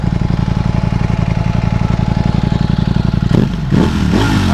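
A 2021 Ducati Streetfighter V4 motorcycle engine idles loud and close with a fast, steady throbbing pulse, then briefly blips and revs near the end.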